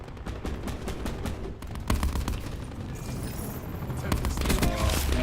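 Rapid video game gunfire from a hand cannon in Hunt: Showdown, dense volleys of close shots and booms layered over a continuous battle din, with a voice talking through it.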